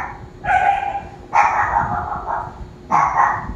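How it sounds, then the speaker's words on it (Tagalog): A dog barks from indoors at someone near a window, three loud, close barks in uneven succession over a low background rumble. "Kaya may aso. Tumatahol yan."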